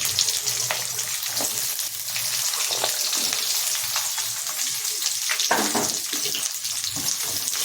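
Onions, cumin, mustard seeds and dal fry in a pan, giving a steady close sizzle with crackling pops and occasional stirring.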